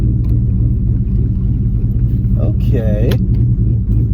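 A deep, rumbling cammed 2001 Mustang GT engine idles with an uneven, loping pulse, close and loud, while a person speaks briefly over it.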